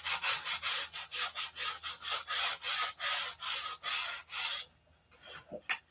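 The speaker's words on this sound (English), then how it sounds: "I'm gonna take some sanding here because it's a hard line or something going on here." Rhythmic back-and-forth sanding strokes rasp loudly and evenly for several seconds, then stop, leaving a few soft knocks and handling noises.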